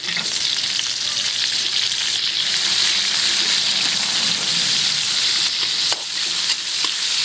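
Onion and meat sautéing for pancit, a loud, continuous close sizzle and hiss of frying in a pan with occasional stirring scrapes.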